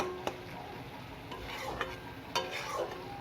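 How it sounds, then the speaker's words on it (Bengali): Bitter gourd (karela) being stirred in a pan with a sprinkle of sugar, giving a soft scraping and sizzling under a few light utensil taps against the metal. "চিনি দিয়ে নেড়ে চেড়ে নেব।"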